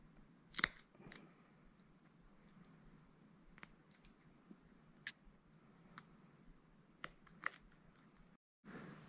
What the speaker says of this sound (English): Cut these tag ends off.